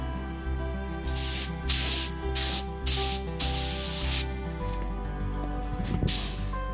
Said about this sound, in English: now we're gonna spray the back. We're just getting set up here, and my husband's gonna give it a spray.